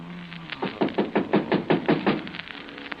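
Someone raps repeatedly on a door, about a dozen loud, evenly spaced knocks in a steady rhythm, with no talking over them.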